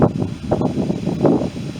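Wind gusts across a hilltop ridge in town near a derelict church, loud buffeting rushes of microphone wind noise arriving in uneven bursts, with no talk.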